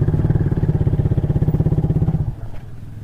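A motorcycle engine idles and putters close by in a steady rapid pulse, then drops off abruptly near the end, leaving a quieter hum.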